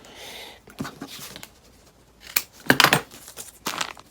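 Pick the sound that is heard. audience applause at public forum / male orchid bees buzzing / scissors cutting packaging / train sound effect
scissors cutting packaging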